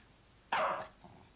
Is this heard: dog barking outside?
yes